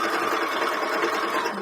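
A sewing machine zigzag-stitches lace onto a bra, giving a steady, even whir of fast, continuous stitching at close range with no pauses.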